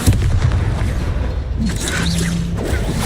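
A Confringo fire spell blasts in the Hogwarts Legacy video game, a loud booming burst up front followed by rumbling low crackle and a brief whooshing tail amid ongoing battle noise.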